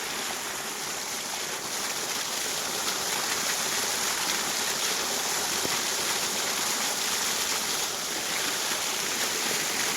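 Cold water pours steadily from rock onto someone bathing outdoors in a village during a hot summer, a continuous close splashing rush with no talk.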